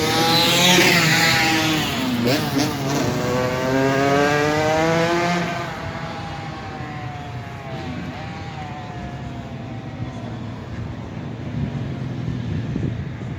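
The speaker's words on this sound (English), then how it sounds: "they coming with the bike every 5 minutes" A motorbike passes close by outdoors, its engine loud at first with a rising, sweeping whine that fades over several seconds and leaves a steady background rumble.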